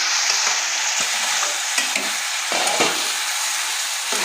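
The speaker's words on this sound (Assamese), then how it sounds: "ভাজি থোৱা মুৰ্গী মাংসখিনি মই অকণমান লৰাই দিম।" Pieces of fried chicken get stirred in a hot pan with other curry ingredients, a loud continuous sizzle with close scraping strokes of a spoon every second or so, no voices.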